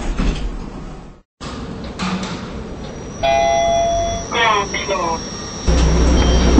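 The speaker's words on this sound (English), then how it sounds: "Doors closing." Elevator doors closing in a Roblox lift game modeled on a K.W. Lifts Neptune with Kleemann Atlas doors, a loud chime, an electronic tone sequence and a sliding door rumble, with a voice talking over it.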